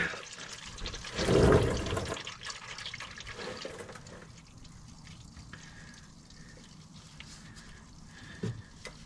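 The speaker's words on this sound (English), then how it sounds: "So we will let that drain." Engine oil drains from the sump of a 2018 Toyota Highlander during an oil change, giving a brief loud gush of pouring liquid that settles into a quieter steady trickle and a few drips.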